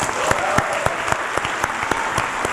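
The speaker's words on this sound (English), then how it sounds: "So let's give him a round of applause." An audience at a senior awards ceremony gives brisk, sustained applause, a dense wash of clapping with a few sharper claps standing out nearby.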